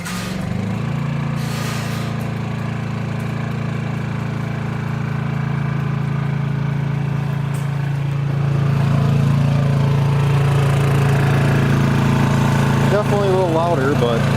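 A Honda 2000i portable inverter generator runs close by with a steady engine drone, its pitch and loudness rising partway through as it takes on a 1500-watt toaster oven load, with a brief voice near the end.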